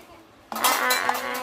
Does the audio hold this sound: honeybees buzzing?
no